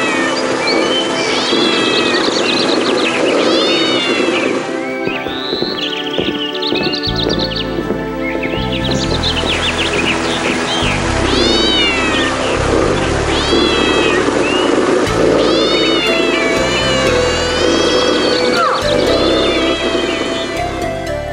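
Loud, continuous cat yowls and meows, rising and wavering in pitch, with strained caterwauling cries piling up as if two cats are squaring off, up close.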